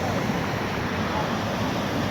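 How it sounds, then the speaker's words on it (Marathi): A brimming river in Konkan rushes bank to bank, giving a dense, steady broadband roar of flowing water that stays loud and unbroken throughout, with a voice speaking over it. "आज खऱ्या अर्थाने दुथडी भरून पाणी वाहत आहे"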